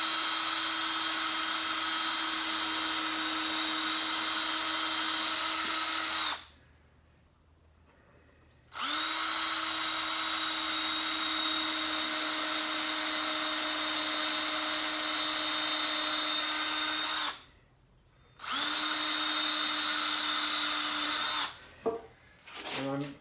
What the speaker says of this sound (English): I might as well drill the ends too